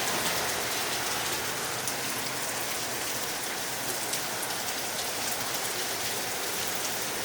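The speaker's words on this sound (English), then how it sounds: "That rain's getting on me." Steady rain on a dark morning outdoors gives an even, dense patter of drops on surfaces, moderately close and constant throughout, with no talking.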